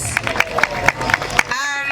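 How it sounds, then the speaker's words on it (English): Audience at a Kenyan women-in-tech event (WETEC) gives a round of applause for a panel, steady dense clapping throughout with faint crowd murmur, cut off abruptly near the end. "Where is the round of applause?"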